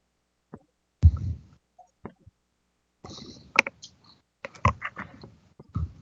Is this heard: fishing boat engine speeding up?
no